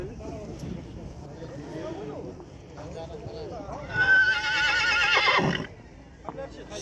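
A horse at a Kyzylorda livestock market gives a loud, shaky whinny over a background of people talking and market bustle, with a second, rougher neigh fading out.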